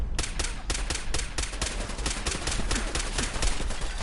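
Rapid bursts of gunfire in Fallout 4 crackle through a continuous firefight, shots stacking densely with no pauses and steady loudness throughout.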